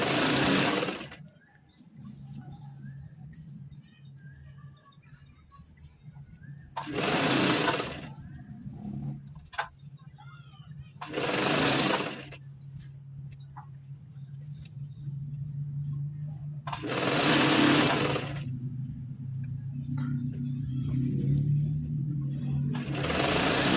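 A sewing machine stitches a saree fall in several loud bursts of rapid whirring, each a few seconds long, with quiet pauses between and a faint steady hum underneath.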